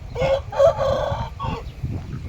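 A Taiwanese fighting rooster crows once nearby, a loud drawn-out call in several rising and falling segments, followed by quieter farmyard noise.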